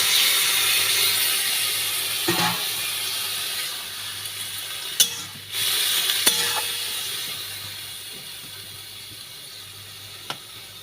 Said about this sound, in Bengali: দেখো আমার নাড়িয়ে চাড়িয়ে এবার এটাকে আমি দিয়ে দেবো সামান্য একটু জল।